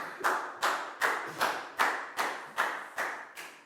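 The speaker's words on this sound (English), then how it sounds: "Big round of applause for Dan" A primary school class claps in unison for a pupil, about nine evenly spaced, close claps in a slow steady rhythm.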